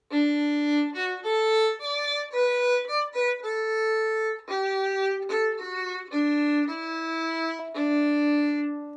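Solo violin plays the opening phrase of May Song, a string of clear, sustained bowed notes of steady loudness with brief gaps between them, no talking over it.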